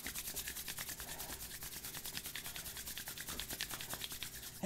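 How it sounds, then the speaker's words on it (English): Palms pressed together in prayer pose rub back and forth to build heat, giving a soft, rhythmic swishing friction that repeats steadily for several seconds, close and faint. "You can put your hands in prayer pose and start rubbing them together till you"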